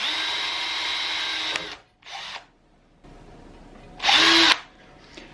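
A power drill whines steadily for over a second, stops, then gives two shorter bursts with a pause between, close and loud, drilling a hole with WD-40 as lubricant.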